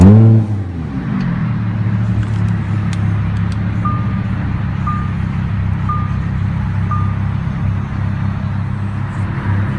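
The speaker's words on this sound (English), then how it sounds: "push the start button located on the center console to start" A Lamborghini Huracán LP610-4 fires up with a short, loud rising roar, then settles into a steady, low, rumbling idle while a few brief electronic chimes sound at regular intervals.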